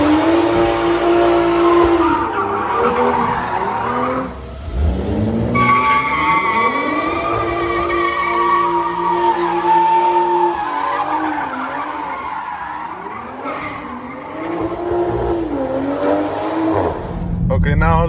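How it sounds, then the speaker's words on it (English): Tires squeal loudly in long, wavering screeches over a running car engine, with short breaks between the skids, during a test drive on new tires. "now let's drive the car for a little bit"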